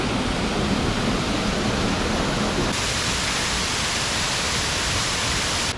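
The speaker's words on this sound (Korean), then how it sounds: "이렇게 바위들 틈 사이로 폭포가 내려오고 있습니다" A waterfall pouring down through gaps between rocks beside a small pond on a mountain trekking trail, a loud, steady, unbroken rush of water with no voices.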